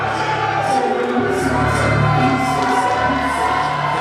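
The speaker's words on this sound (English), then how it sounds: "You can hear the love, the adulation, and the respect, the outpouring from this capacity crowd here at the Théâtre Paradoxe." A capacity crowd at a wrestling match in the Théâtre Paradoxe roars and cheers continuously, with whoops and shouts rising in waves over a dense wall of noise.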